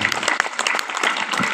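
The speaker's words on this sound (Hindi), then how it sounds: "जोरदार ताली के बौछार हो जाए।" A village audience at a Manas stage programme in Khairbana, Kawardha, gives dense, steady clapping that sounds loud and close throughout.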